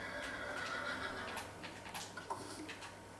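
A horse whinnies in the Minecraft video game, a faint, high neigh with brief clip-clop ticks, set against a steady background hiss.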